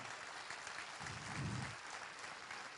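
Applause from an audience at a book launch and Dhamma talk, a quiet, steady patter of many hands clapping, faint and somewhat distant, swelling slightly midway.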